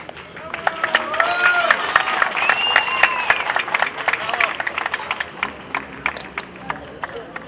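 Audience applause at a 2005 Tvarditsa rally awards ceremony: sustained, dense clapping from a crowd with scattered cheers and background chatter, steady throughout.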